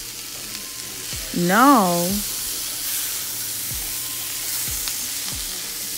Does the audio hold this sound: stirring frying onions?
yes